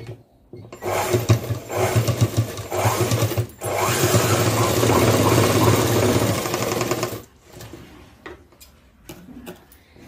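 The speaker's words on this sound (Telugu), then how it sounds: "పైనుంచి ఒక కుట్టు అనేది వేసేయండి" A sewing machine stitches a seam across cloth, a loud steady mechanical whirr running in bursts, with a long continuous run in the middle and short stops and starts near the end.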